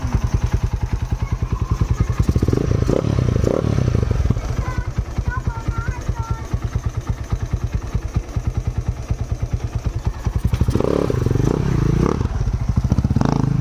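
A Rusi Sigma 250cc motorcycle fitted with Keihin carburetors revs hard and steadily, with rapid, close backfire pops crackling through the engine roar that swells again near the end.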